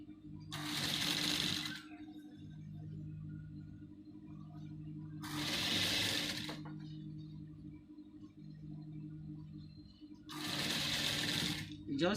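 A sewing machine stitching a basque hipline gown runs in three bursts of whirring, each a second or two long, separated by quieter pauses, with a soft hum between them.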